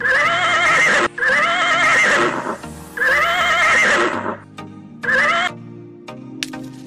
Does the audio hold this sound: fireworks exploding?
no